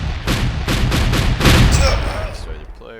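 Projectiles fired in a Diablo 2 style action RPG prototype: five or so loud, punchy bursts in a quick rhythm, followed by a fading whoosh and small tinkling effects.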